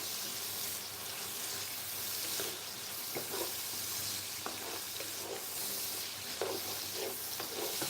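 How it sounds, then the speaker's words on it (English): Onion sautéing in a pan for a rich chicken curry, with a steady soft sizzle, faint stirring scrapes and a few light clicks, heard close and alone without talk. "Saute this onion"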